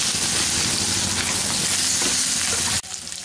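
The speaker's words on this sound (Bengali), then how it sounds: "চিকেনটাও এক সাইড ফ্রাই হয়ে গেছে" Chicken pieces fry in a pan with a loud, dense, continuous sizzle up close, cutting off abruptly near the end to a quieter hiss.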